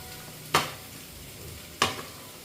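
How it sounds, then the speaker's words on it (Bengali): Potatoes go into a pan of frying chicken with two short sizzling bursts as the mix is stirred, each spike fading quickly against a quiet background, with no talking. "আর এই যে এখন আলুগুলো দিয়ে দেবো।"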